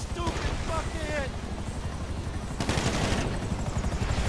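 Rapid, continuous automatic gunfire in a GTA video game, a dense low rattle with a helicopter-like drone behind it, loud throughout and briefly overlapped by a voice.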